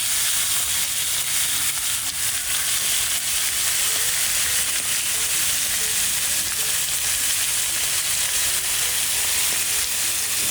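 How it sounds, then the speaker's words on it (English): A steak sears in a hot cast iron skillet with olive oil and rosemary, giving a loud, constant, close sizzle and hiss that holds steady throughout without speech. "We're gonna let our steak sear for about 30 seconds on each"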